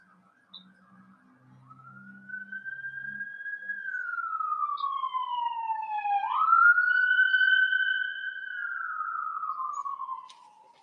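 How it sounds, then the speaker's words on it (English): A single wailing ambulance siren rises and falls in long slow sweeps, growing louder as it approaches, then fading, with a faint murmur of voices at the start. "Do apologise for the ambulance that goes past."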